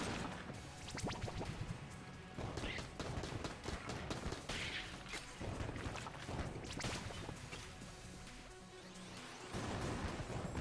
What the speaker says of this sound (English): there was gunfire coming from behind me